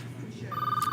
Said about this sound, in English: Hey, is that the phone?